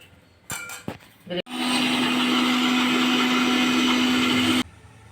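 A mixer grinder blends onion into a gravy for paneer curry, a loud steady whirring motor that runs for about three seconds after a few brief clicks and clatters, then cuts off abruptly.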